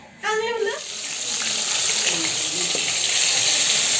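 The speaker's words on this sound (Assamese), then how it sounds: "এইফালে মাছখিনি মানে আজি ভাজি থৈ দিছোঁ" Fish frying in a pan at a home cooking session, a steady broadband sizzle that holds and slightly swells across the clip, heard up close after a brief voice at the start.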